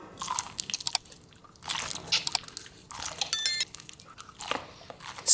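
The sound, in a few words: chewing crunchy edible slime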